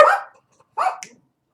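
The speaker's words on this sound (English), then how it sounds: "Sorry about the dogs." Dog barking in two bursts, a loud close bark followed by a pause and then a second harsher bark with a sharp yip at its end, in an otherwise quiet indoor room.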